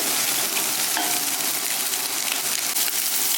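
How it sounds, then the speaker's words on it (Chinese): Pork intestines stir-fried over high heat with scallion, ginger, garlic and a spoon of bean paste in hot oil give a loud, steady sizzle and crackle with a few light stirring clicks, and no voices. "大火给它爆炒一下"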